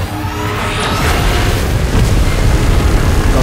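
A massive energy beam blast from Mechagodzilla in PUBG Mobile roars as a loud, sustained rumbling surge, with a sweeping whine rising through the first second and steady thunderous noise after.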